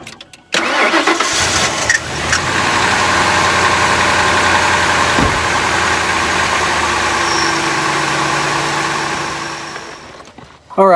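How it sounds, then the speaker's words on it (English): A truck engine cranks, catches and settles into a steady, loud idle close by, running evenly for several seconds before cutting off near the end. "Start up the truck and let it idle for 15 minutes."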